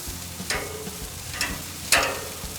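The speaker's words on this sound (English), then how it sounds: "all that juice hitting those hot coals down there" Chicken wing juices drip onto hot grill coals, flaring into three short bursts of sizzle over a low background crackle, the last burst the loudest.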